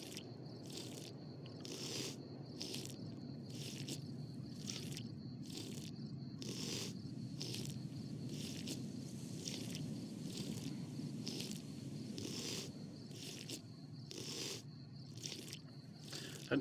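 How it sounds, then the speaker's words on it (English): Repeated wet slurping and gulping sounds pulse at a steady rhythm over a low rumbling background, close and moderately loud, with no talking; a character drinking from a light in the game Fallout: New Vegas. "Don't you just enjoy those slurping sounds?"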